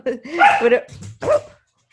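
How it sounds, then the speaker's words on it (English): A dog barks excitedly indoors in a few short yips and whimpers, mixed with nearby voices and laughter. "This dog is going nuts right now."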